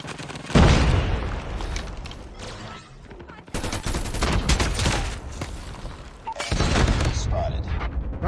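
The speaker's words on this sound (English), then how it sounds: "Why am I getting shot from behind?" Rapid gunfire from a shooter video game, played as the KRIG 6 rifle in a ranked match. Bursts of shots come in dense clusters with brief gaps and sit under a voice talking.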